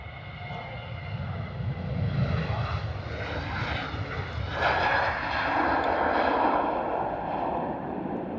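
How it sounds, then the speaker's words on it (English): A Ryanair airliner departs London Stansted Airport with a distant, sustained jet engine roar that swells and shifts in tone as it climbs away. "Capture this next Ryanair departure."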